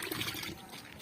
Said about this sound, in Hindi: हम अपने खेत को पानी लगाएंगे इस तरीके से। ऐसे पानी लगा रहे